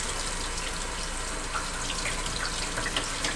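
Warm water runs steadily from a tap into a sink as an ink drawing is washed and scrubbed, a loud continuous splashing rush with no talk.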